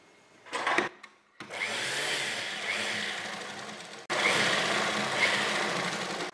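A sewing machine stitches a strip around a kurti neckline in two sustained whirring runs after a few brief handling noises, fairly quiet and close.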